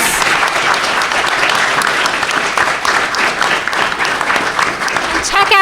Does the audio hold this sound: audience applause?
yes